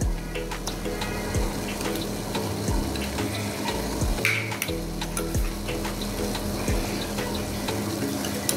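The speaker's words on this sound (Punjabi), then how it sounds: "ਚਾਸ਼ ਨੂੰ ਵਾਲ ਆ ਗਿਆ ਵਾ ਉੱਬਣ ਲੱਗ ਪਈ ਆ ਅਤੇ ਹੁਣ ਆਪਾਂ ਇਹਦੇ ਵਿੱਚ ਪਾ ਦਾਂਗੇ ਘਿਓ" Sugar syrup bubbling at a boil in a pot as ghee is added for yellow sweet rice, a constant close sizzling hiss broken by several dull thumps and scraping stirs.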